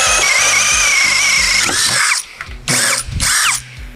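XENON CDID1845 18V cordless impact drill drilling, a loud close motor whine with rattling hammer pulses, then cutting off into short bursts of revving with brief gaps between.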